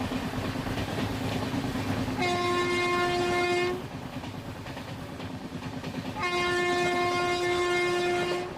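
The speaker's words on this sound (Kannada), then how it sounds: "ನಮ್ಮ ಟ್ರೈನ್ ಈಗ ಶೆಡ್ಬಾಳ ರೈಲ್ವೆ ಸ್ಟೇಷನ್ನ ಸ್ಕಿಪ್ ಮಾಡ್ತಿದೆ." A train passes through Shedbal railway station on the Miraj–Belagavi line without stopping, with steady loud rail rumble and clatter and two long, blaring horn blasts, each lasting about a second and a half.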